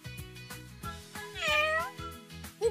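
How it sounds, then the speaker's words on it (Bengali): A cat meows repeatedly at close range, one drawn-out call rising and falling in the middle among shorter chirpy meows, all alone with no talk. "বিড়ালের শব্দ।"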